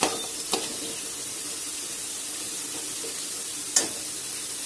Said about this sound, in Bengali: এবার আমি হিংটা ফোড়ন দেব